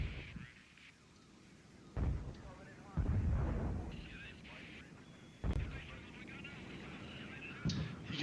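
Booming tank gun shots from the Seven Days to the River Rhine war game, several sharp blasts with rumbling tails over a low noisy backdrop, with someone talking between them.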